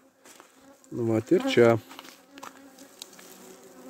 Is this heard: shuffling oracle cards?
no